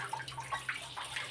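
Tap water runs steadily from a faucet as freshly dug ginger roots are rinsed of soil, a soft continuous splashing with no talk.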